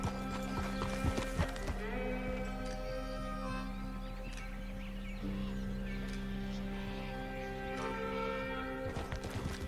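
Palomino horse hooves clip-clopping in Red Dead Redemption 2, a steady walking rhythm of soft thuds with occasional sharper clacks, set against layered game ambience and faint background music, with no talking.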